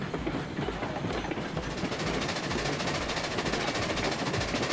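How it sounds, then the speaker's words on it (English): A runaway train in the RailRoads Online game rolls full blast down a steep grade, a dense, loud, steady rumble with fast rhythmic clickety-clack of wheels over rail joints and no talk. "Runaway train."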